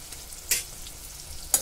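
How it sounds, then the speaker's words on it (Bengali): Ginger paste, green chili paste, coriander and cumin powder and salt frying in hot oil for a vegetarian mushroom dish: a soft, steady sizzle broken by two brief, sharp scraping stirs. "মশলাগুলো সব একসাথে দিয়ে ভালো করে কষে নিচ্ছি"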